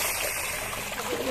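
Water from a mountain creek rushes steadily and close by, a continuous, even babbling flow with no other sounds.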